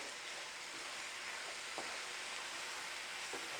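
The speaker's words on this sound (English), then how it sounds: "We are really cooking now. This is sizzling, and that's what we want." Food with onions and zucchini sizzles steadily in a hot pan, a constant hissing crackle with a couple of faint clinks of a utensil.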